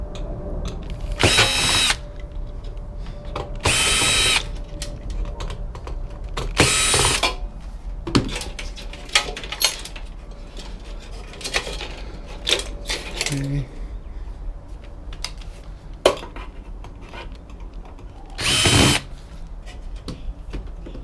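A power drill whirs in several short bursts as nuts are taken off a heat sink inside a scrapped UPS, with clinks and small metallic handling noises in between.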